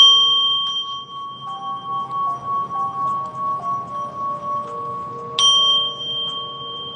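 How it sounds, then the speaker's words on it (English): A bell struck hard once, ringing out in a bright sustained tone with wavering overtones, then struck again about five seconds later with a fresh ring over the fading first. "I'm gonna hit this bell."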